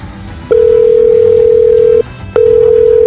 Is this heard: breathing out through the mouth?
no